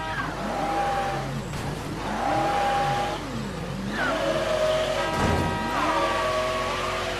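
A car stolen and driven in the video game Mafia 3 revs and accelerates steadily, its engine pitch rising and falling through repeated gear sweeps, loud and close with no talk.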